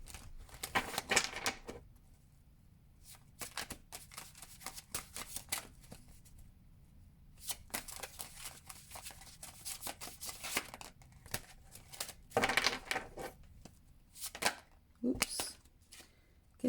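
A tarot card is drawn from a deck, with bursts of crisp card flicks and slides heard close and quietly, separated by pauses.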